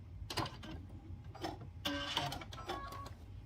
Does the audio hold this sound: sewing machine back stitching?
yes